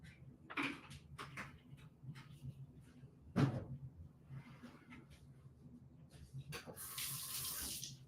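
Liquid splashes and trickles as tea is poured into a cup, a steady close running-water sound with a few clinks and knocks and a brighter rush near the end.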